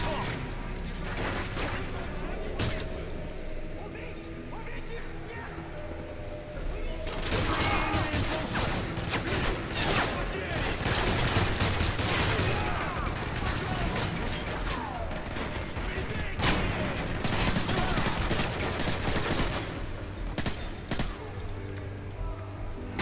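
Gunfire in the Call of Duty Modern Warfare 3 campaign: dense, continuous battle noise with repeated shots, impacts and crashes, loud and cluttered throughout, intensifying in the middle, with voices talking underneath.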